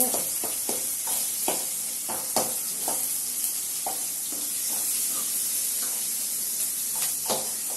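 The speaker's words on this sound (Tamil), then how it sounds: "வெங்காயமும் தக்காளியும் நல்லா வதங்குது." Onions and tomatoes sautéing in a pan on a Butterfly gas stove while cooking vendakkai poriyal, giving a steady close sizzle broken by repeated scraping stir strokes, with no talking.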